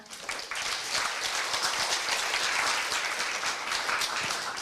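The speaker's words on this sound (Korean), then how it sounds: "모두 다시 한 번만 뜨거운 박수 부탁드리겠습니다" Enthusiastic applause from a crowd at a university anniversary ceremony, dense and sustained clapping that rises quickly and continues at a steady level.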